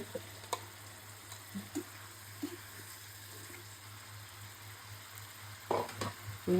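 Stinging catfish and potato pieces sauté in a spiced masala in a pan, giving a soft, continuous sizzle with a few light clinks and stirring scrapes, faint and close.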